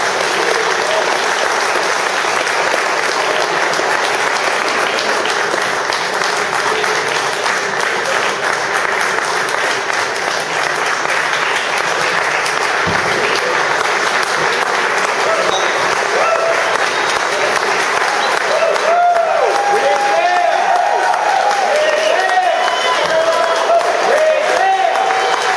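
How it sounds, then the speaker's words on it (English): An audience applauds the Tuskegee Airmen, sustained dense clapping throughout, loud and steady, with a few voices and cheers rising near the end. "let's give them a round of applause"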